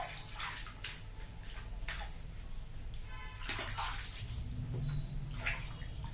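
A small child sits in bathwater, splashing and sloshing in close, irregular bursts and swishes, with a few drips between them.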